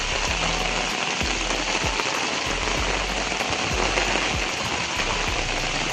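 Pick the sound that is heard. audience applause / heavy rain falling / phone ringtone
heavy rain falling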